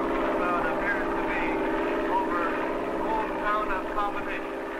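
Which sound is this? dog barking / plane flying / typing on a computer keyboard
plane flying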